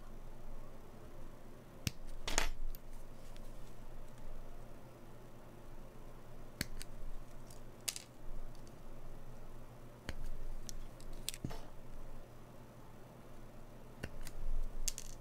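Plastic Millennium Falcon model parts are snipped off a sprue, with a handful of sharp, close snaps spaced a few seconds apart over a quiet room background.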